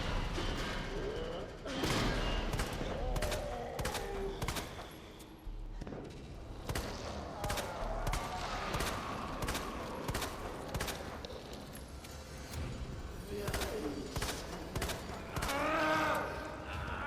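Gunfire in the Resident Evil 2 video game: repeated sharp shots, some in rapid bursts, spread across the stretch over a dense game soundscape of thuds and ambience.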